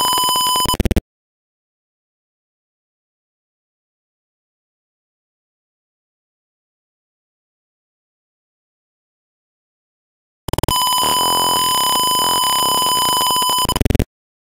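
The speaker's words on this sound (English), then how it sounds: "the Arduino will trigger the red LED and the buzzer" A buzzer driven by an Arduino on a full automatic trash can sounds a loud, steady electronic tone for about a second, falls silent for several seconds, then sounds again for over three seconds, alone and close.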